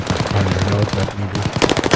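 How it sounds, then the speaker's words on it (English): An MP40 submachine gun fires in rapid bursts in a video game, a near, loud chattering rattle of quick shots across two seconds with a brief break. "I am liking this MP40 though"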